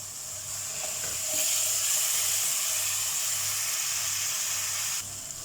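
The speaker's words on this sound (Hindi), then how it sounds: "थोड़ा थोड़ा पानी ऐड करके इसको भूनना है, मसाले को अच्छे से भूनना है" Ground spice masala for kofta pulao sizzling and frying in a pan as splashes of water are added, a steady close hiss that swells and holds for several seconds, with no talking.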